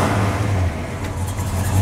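A 1970 Boss Mustang V8 gives a loud, close engine rumble with a deep, steady note that swells slightly as it revs.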